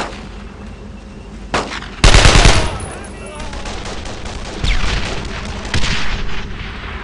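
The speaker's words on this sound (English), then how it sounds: "Take those mortars out!" Battle noise from the Brothers In Arms video game: mortar booms and bursts of gunfire, with a heavy blast at two seconds, then rattling shots and further impacts over continuous combat rumble.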